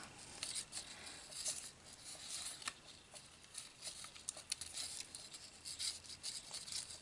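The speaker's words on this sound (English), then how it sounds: "this paper is thin and it should fold very easily" Thin paper is folded for a snowflake border heart rosette, a faint close-up series of crisp rustles, creases and light scrapes in an uneven rhythm, with no talking.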